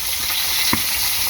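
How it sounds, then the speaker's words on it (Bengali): Fish frying in hot oil gives a steady, close hiss of sizzling with one brief pop, with no voices. "এই যে মাছ ভাজা হয়ে গেছে"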